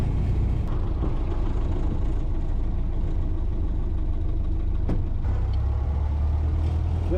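A 1931 Ford Model A with its original engine drives along, a steady low rumble filling the cabin with small shifts in tone as the gears are changed by double clutching, no voices heard.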